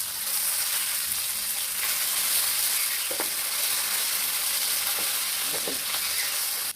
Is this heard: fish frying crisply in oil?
yes